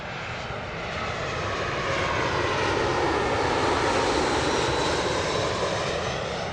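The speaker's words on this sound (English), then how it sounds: "Saudi on your screens now is a Dash 10 Dreamliner." A Saudia Boeing 787-10 Dreamliner jet at London Gatwick Airport gives a broad, rising roar of engine noise that swells and holds loud and steady over several seconds, with no talk.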